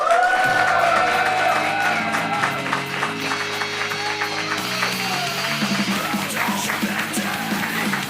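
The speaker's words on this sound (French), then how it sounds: "je vous demande de faire un tonnerre d'applaudissements pour vos hosts de ce soir, Pierre et Rémi." A live audience at a podcast recording in a venue breaks into applause and cheering with a few whoops, steady and full, while music plays beneath the crowd noise.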